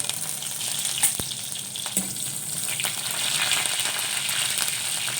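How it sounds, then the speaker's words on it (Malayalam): Leaves and spices crackle and sizzle in hot oil, a steady frying hiss broken by a couple of sharp ticks and pops. "ഇതിലേക്ക് കറിവേപ്പിലയും വറ്റൽമുളകും കൂടെ ചേർത്ത്"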